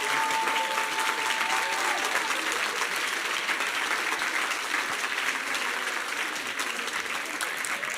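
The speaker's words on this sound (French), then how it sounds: "donc vous pouvez l'applaudir" An audience applauds steadily for several seconds, dense clapping filling a hall at a live event, with a faint voice briefly audible at the start.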